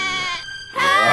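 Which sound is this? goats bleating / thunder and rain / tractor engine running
goats bleating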